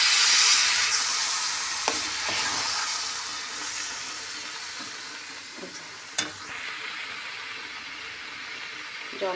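Beetroot, carrot and potato cooking in a pan just after water is added give off a continuous hissing sizzle that slowly quiets, with a few brief clicks and scrapes, no voices.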